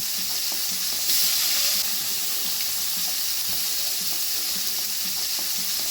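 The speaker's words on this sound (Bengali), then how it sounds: "এখন আমি মাছগুলো ভেজে নেবো" Steady sizzling of marinated Poa sea fish frying in hot oil, a continuous crackling hiss with small pops, close up and with no voices.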